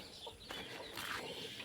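Chickens in a backyard coop give a few soft, distant clucks and short calls over quiet background noise.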